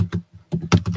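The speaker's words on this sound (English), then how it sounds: "F6 in the sense just function F6 on your keyboard" Several crisp computer keyboard key presses, such as the F6 function key, tap out in a quick irregular run of about five clicks, close and fairly loud, with no one speaking.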